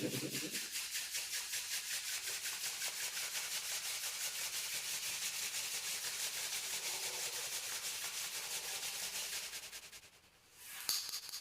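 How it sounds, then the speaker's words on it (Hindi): Palms rub together steadily during a guided relaxation meditation, a continuous close, dry swishing friction that runs without pause for about ten seconds, then briefly drops away before resuming. "अपने हाथों को आपस में रगड़िए"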